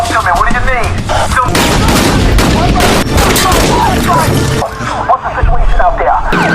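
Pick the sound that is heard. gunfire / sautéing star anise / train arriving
gunfire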